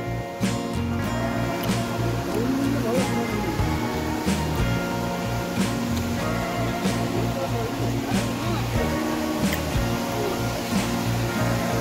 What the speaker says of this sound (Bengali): দেখুন তুরগা ওয়াটারফলস